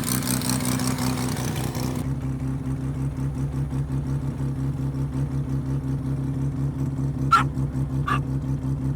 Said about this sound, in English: Almost done tuning this car. I'm gonna do one little preview of a pull,